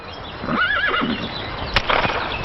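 A horse whinnies in a clear, wavering neigh, followed by a few sharp hoof clops, heard at moderate distance with no talking.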